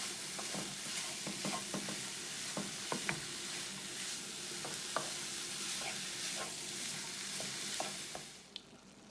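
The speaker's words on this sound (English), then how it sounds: "I'm going to cook this up until the mince has been browned." Minced beef browning in a pan for Cajun rice gives a steady close sizzle, with frequent clicks and scrapes from stirring. It fades slightly at the very end, and no one talks.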